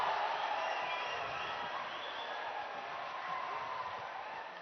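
A steady, loud wash of cheering and whooping from team members at an ABU Robocon 2022 robotics contest in India, holding level throughout and easing slightly at the close.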